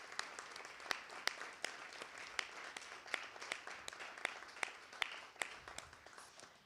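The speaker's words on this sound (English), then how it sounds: "I would like for you all to give a huge round of applause for the people that presented" Thesis competition audience applauding the presenters, a moderately distant burst of many hands clapping steadily throughout.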